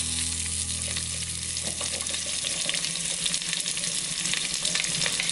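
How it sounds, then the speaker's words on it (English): Onions dropped into a hot pan sizzle and fry steadily for a vegan vegetable soup, a dense, continuous crackle that stays fairly loud throughout with no voices. "Next, we're gonna drop in our onions."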